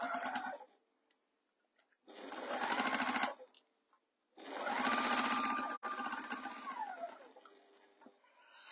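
A sewing machine stitching through a bulky lined bag with wadding, running in three close bursts of rapid rhythmic whirring and ticking separated by brief pauses.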